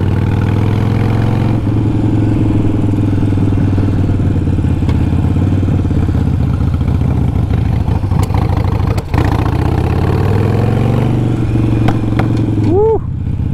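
A Harley-Davidson Sportster 1200 Iron engine runs roughly on a Fuelpak AutoTune setup, loud and close, with an uneven idle, a few sharp pops of backfire and a short rev near the end.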